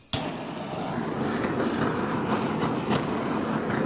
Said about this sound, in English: I've got a big mama torch, so I apologise about the noise.